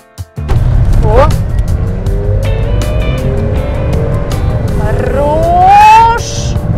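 Heard from inside, a turbocharged Toyota Chaser drives along with a loud, close engine drone whose pitch climbs and falls as it accelerates and shifts, while people talk in the cabin.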